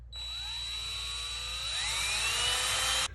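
A power drill whines steadily while drilling into a 72-year-old American Flyer train set, its pitch climbing partway through as the bit bites in, then cutting off abruptly near the end.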